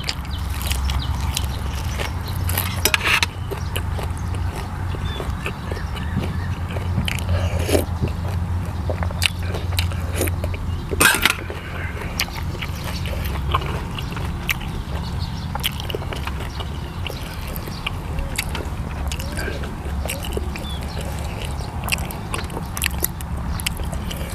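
Eating and chewing food, a bitter northeastern Thai jaew dip with beef, heard as close, irregular wet crunching and biting noises over a steady low background hum, with no talking.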